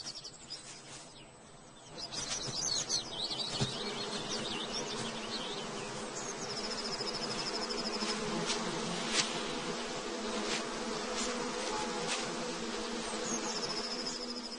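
Bees and wasps buzzing steadily in a summer forest, a close, continuous insect drone with faint bird calls in the background.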